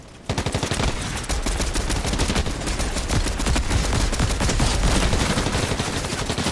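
Rapid automatic gunfire from a shooting video game fires in a dense, close, loud stream of shots that starts abruptly and continues without a break.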